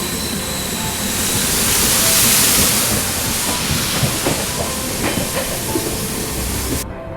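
Heavy rain and rushing waterfalls beside the Pragati Express train in the Bhor Ghats between Pune and Mumbai, a loud continuous roaring hiss with faint rail clatter underneath.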